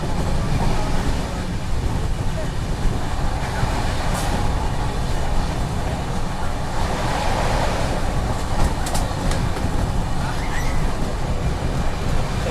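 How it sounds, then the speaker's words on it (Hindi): Jallianwala Bagh Express passenger train running flat out at about 127 km/h past Khanna station in Punjab, a steady loud rumble of wheels and carriages with continuous clattering, recorded from on board with no talk. "और ट्रेन चल रही है बढ़िया स्पीड में"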